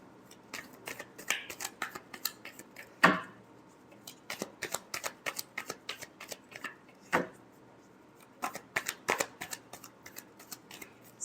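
Tarot cards are shuffled close by in a quiet room, giving soft riffling and snapping flicks in uneven bursts with short pauses between them.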